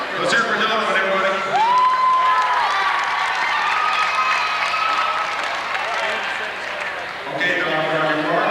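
At a family Christmas gathering, a room of people claps and cheers for a boy named Donovan: steady, dense applause with voices mixed in, lasting several seconds before tapering, then picking up again briefly at the end.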